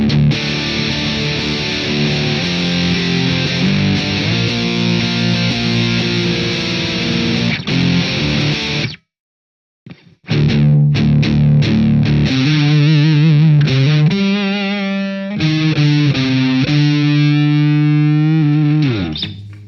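An electric guitar played through an Orange Guitar Butler pedal rings out loud and heavily distorted in sustained chords and riffs, breaks off for a brief silence midway, then resumes with more melodic runs.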